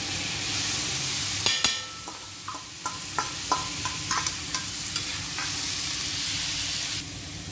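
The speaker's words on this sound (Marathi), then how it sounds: "आता यानंतर हा टोमॅटो आपल्याला यामध्ये घालायचा आहे." Chopped tomato goes into a hot pan for a Maharashtrian tomato chutney, sizzling steadily while a spoon scrapes and stirs in a run of sharp, irregular clacks, close up with no talking.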